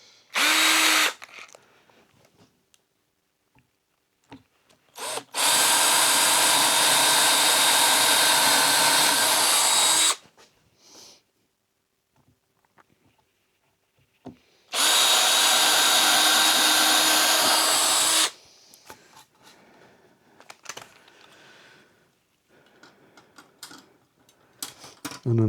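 A power drill with a 5mm bit whirs loudly in two long sustained runs of about five seconds each, separated by quiet pauses with small clicks and handling noises.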